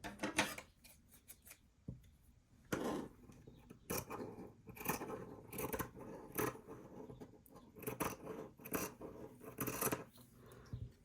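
Scissors snipping through material to cut out a shape for a handmade craft mushroom, a string of crisp close cuts and rustling in uneven bursts, no talking.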